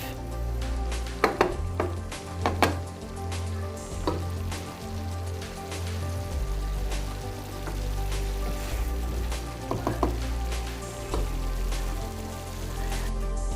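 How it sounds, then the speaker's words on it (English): Ground beef with taco seasoning mix sizzles softly in a pan as it is stirred for nachos, with a steady crackle and a few sharper scrapes and taps of the spoon. "you're gonna want to mix this until you see that the taco mix has already been fully absorbed by the ground beef"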